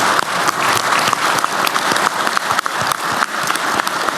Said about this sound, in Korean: 우리 고생하신 총리님한테 박수 한번 드릴까요?